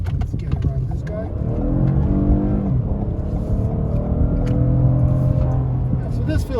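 A 2022 SUV in sport mode accelerating hard to overtake another car on the road: the engine note climbs loudly and steadily from inside the cabin, with a voice talking over it.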